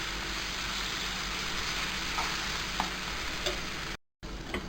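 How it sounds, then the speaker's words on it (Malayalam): Brinjal fries in a pan on a stove set to high, giving a steady close sizzle with faint stirring scrapes. The sound cuts out briefly near the end, then resumes. "സ്റ്റവ് മാക്സിമം സിമ്മിൽ വെച്ച് നമുക്കതിനെ ഫ്രൈ ചെയ്തെടുക്കാം."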